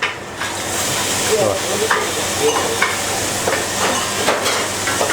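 Boiled mutton frying in hot oil for a Malvani curry, a continuous sizzle and hiss broken by scraping stirs and occasional utensil knocks, close and fairly loud.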